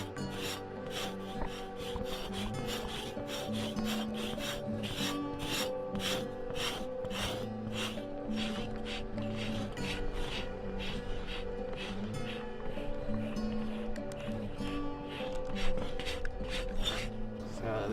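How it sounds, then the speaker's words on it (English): Hand scraping of hair from a buffalo hide stretched on a rack, being prepared as drum leather, gives a steady rasping rub that repeats in quick strokes, close and continuous, with no talk over it. "What we're doing is we're scraping the hair off so we can prepare it for like a drum."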